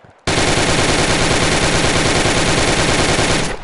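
AK rifle fire in the VR shooting game Gun Club VR: one loud, sustained burst of rapid automatic shots that starts abruptly and runs without pause for over three seconds.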